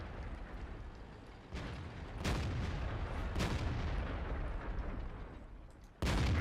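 Tank cannon shots striking a Super Pershing in World of Tanks, a few sharp booming impacts spaced seconds apart over a steady rumbling engine bed, fairly faint overall.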